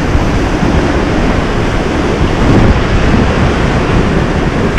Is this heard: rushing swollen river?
yes